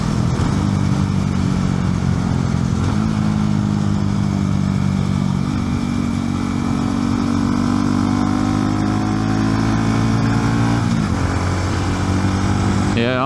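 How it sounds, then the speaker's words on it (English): A Honda Grom motorcycle with a quieter exhaust rides steadily, its small engine droning loud and close at a fairly constant pitch with slight rises and dips, and a brief shift in tone near the end. "the Grom is so much more enjoyable to ride with the quieter exhaust"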